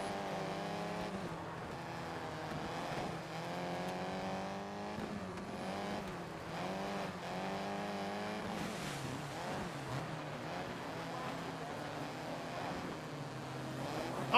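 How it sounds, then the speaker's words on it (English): A rallycross car in the DiRT 2 racing game drones with a steady, loud engine whine that rises and falls with shifting revs, continuous throughout with no voices. "I forgot I put a little bit of rear brake on the rallycross car."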